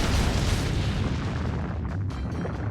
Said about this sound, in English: somebody's firing magical energy blast at us at 6 o'clock